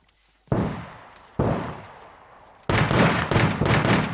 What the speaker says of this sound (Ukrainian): вони стріляють вроді по ліжку